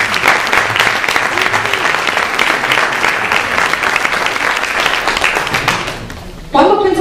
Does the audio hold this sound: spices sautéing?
no